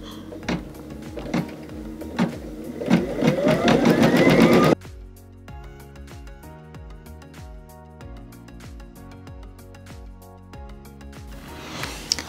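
A Baby Lock embroidery machine stitches a design with a fast, steady mechanical whir and rapid needle clatter, close and loud at first, then a lighter rhythmic chattering of motor and stitching continues to the end.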